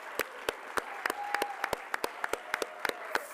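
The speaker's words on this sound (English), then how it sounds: "let's give one more round of applause to Dr." Scattered, sparse hand claps from a small audience at an honors program awards ceremony, sharp individual claps spaced unevenly over a faint steady tone, with no talk.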